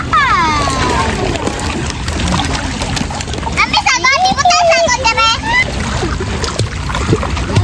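People bathe in cool stream water in a forest, with splashes and sloshing under loud, lively chatter and children's voices throughout.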